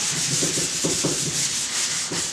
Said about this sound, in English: Not much sanding at all, just enough